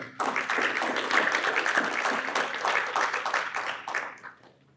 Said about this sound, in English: let's get a quick round of applause for Jose